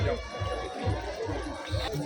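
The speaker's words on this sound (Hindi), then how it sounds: "भाई साहब फुल भीड़" Dense crowd noise at the Hariyali Amavasya fair in Udaipur, a continuous hubbub of voices and movement among market stalls, with footsteps and chatter close by.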